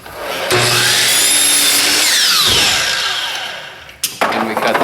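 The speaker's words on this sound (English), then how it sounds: "Cut the second miter" A power saw slices a miter across a wooden shake shingle, a loud close whine rising and sustaining for about three seconds, then trailing off before a brief clatter and restart.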